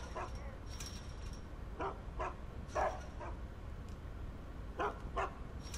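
Dogs barking in the stealth video game Geist, several short sharp barks and yips spaced irregularly over low background game ambience, moderately distant and not very loud.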